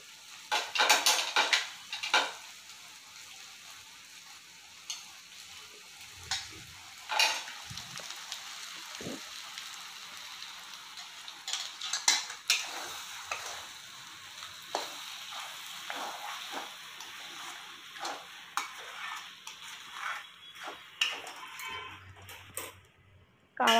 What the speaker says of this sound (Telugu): ఇందులో హై ఫ్లేమ్ కూడా పెట్టి వేయించుతున్నాం కదా, అందువల్ల కూడా అడుగు అంటుతూ ఉంటుంది